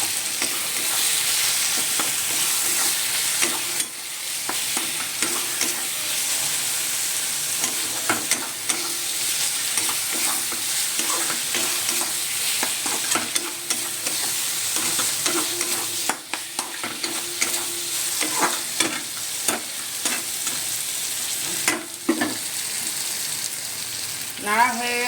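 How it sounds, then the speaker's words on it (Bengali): Spices with coriander powder sizzle in a frying pan while being stirred and scraped with a spoon, a steady, quiet fry broken by occasional clinks and stirring strokes. "তারপরে আমি নাড়ছি আবার।"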